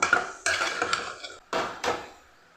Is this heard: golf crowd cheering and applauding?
no